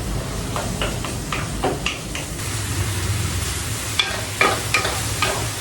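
Peppers frying in a pan give a loud, dense, crackling sizzle that runs throughout, with scraping stirs and sharper pops every so often.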